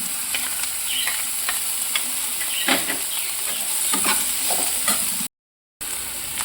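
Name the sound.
chili and ginger paste sizzling with frying figs and potatoes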